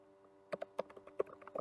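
Close, quiet computer keyboard typing on an Ubuntu server setup: a short run of distinct key presses in an irregular rhythm, ending with a final keystroke.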